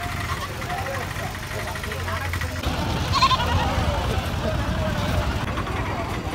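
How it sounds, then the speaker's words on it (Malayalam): Goats bleat at a busy Kerala goat market, their calls rising over steady crowd noise and a low engine hum while people talk nearby. "ഈ കാണുന്ന 3 ആട് നല്ല ആടുകളാണ് വളർത്താൻ പറ്റിയ ആടുകളാണ് ഇത്"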